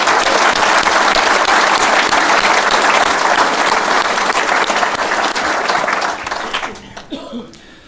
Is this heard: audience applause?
yes